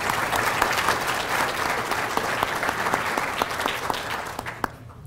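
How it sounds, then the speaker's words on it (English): Presentation audience applauding the event sponsors, several seconds of steady, fairly loud clapping from a room of people that tapers off at the end. "A round of applause for those sponsors,"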